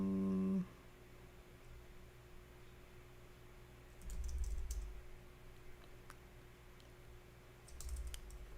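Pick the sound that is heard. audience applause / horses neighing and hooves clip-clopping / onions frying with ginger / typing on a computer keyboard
typing on a computer keyboard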